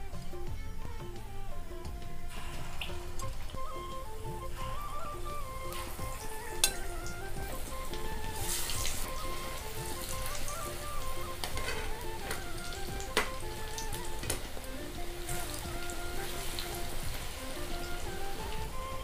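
Battered pointed gourd (potol) chops frying in hot refined oil, a steady, even sizzle with soft bubbling pops throughout, nearby and uninterrupted by talk.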